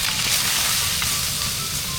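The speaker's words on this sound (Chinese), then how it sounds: "略微煎一下就好，就把它的那个皮给煎焦一点点。" Food pan-frying in peanut oil to crisp the skin, a dense, close, continuous crackle and sizzle with no talk.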